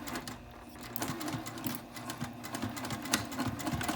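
A sewing machine stitches fabric for a sling past a sewn dart and backstitches, giving a soft, rapid mechanical clatter with quick needle ticks that speeds and slows in short bursts, close by.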